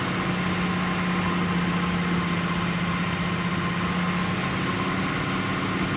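A car engine held at about 2,000 RPM during a roadside exhaust noise test, with one tailpipe open on each side: a steady, moderately loud drone and hum that stays even throughout, with no voices.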